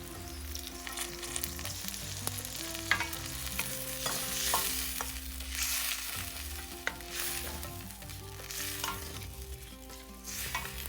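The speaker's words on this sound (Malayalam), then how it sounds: "ഈ വിനിഗറിൽ കാന്താരി നന്നായിട്ടൊന്ന് തിളയ്ക്കണം" Kanthari chillies simmer in undiluted vinegar seasoned with kosher salt for a Kerala pickle, giving a continuous bubbling, sizzling hiss at a moderate level with small pops throughout and no voices.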